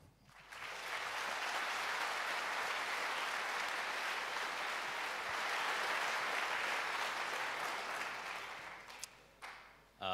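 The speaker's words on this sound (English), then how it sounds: "give a warm applause for Pluto, Derek, and Smea" Warm, sustained applause from a tech conference audience, a dense even roar of clapping that rises quickly, holds for several seconds and then tapers off near the end.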